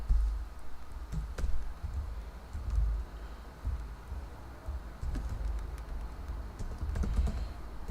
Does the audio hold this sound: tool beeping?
no